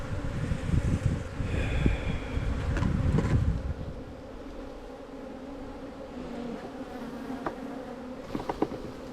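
Honey bees buzz steadily around an open hive during a bee yard inspection, a dense close hum with louder bursts as frames are handled and bees are shaken off, with no talking.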